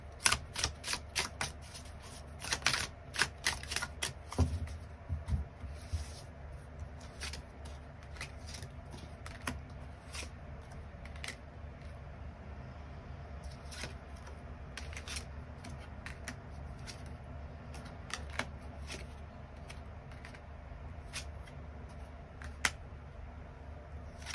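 Tarot cards are shuffled and drawn: quick papery riffles and snapping card flicks, busy and crisp at first, then sparser taps and slides of single cards, all close and fairly quiet with no talking.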